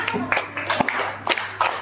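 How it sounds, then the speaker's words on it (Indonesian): Children in a primary school classroom clap their hands in a few short, scattered bursts, fairly soft and uneven, with a voice speaking briefly between them. "Tepuk tangan untuk kita semuanya."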